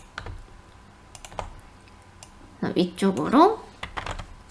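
Computer keyboard keys clack in a few scattered, close taps while someone works through CAD software, followed by a short spoken phrase.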